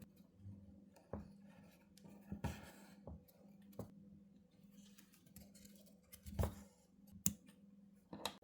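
Scissors snipping embroidery thread during French embroidery work: a few faint, sparse clicks and snips spread over quiet background, with no talk.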